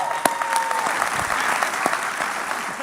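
Audience applause for a volunteer who came up on stage at a conference, a moderate, continuous patter of clapping with a few sharper claps standing out.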